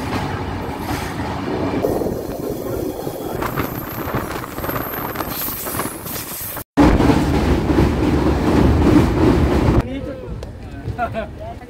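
The Kanchan Kanya Express rolls into New Mal Junction with a loud rumble of railcars, squealing wheels and clatter, briefly cutting out, then fading to quieter station ambience.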